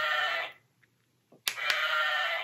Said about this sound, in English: Rub the lamb's fleece to hear her baa.